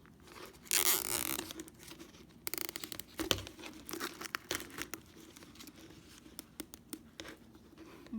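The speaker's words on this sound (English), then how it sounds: "make sure that you pull the zip tie nice and tight" A zip tie is pulled tight around flexible foil dryer vent duct for a craft project. Quiet, close crinkling of the foil mixes with scattered small clicks and rustles, and no one talks.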